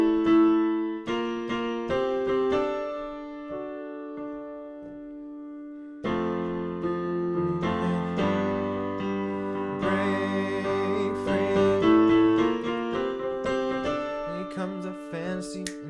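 Solo piano plays the chords of a song from The Greatest Showman, a sparse run of struck chords, a short pause, then fuller sustained chords ringing together, close and clear with no voice.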